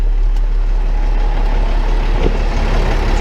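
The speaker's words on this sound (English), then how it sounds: "Truck is running." A big truck's engine idles steadily during a brake job, a constant low rumble with a deep hum underneath and occasional faint clanks, and no one speaks.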